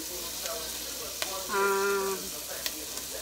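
Onion frying in hot oil for Bicol Express gives a steady close sizzle with small popping splatters, and a voice briefly speaks over it partway through.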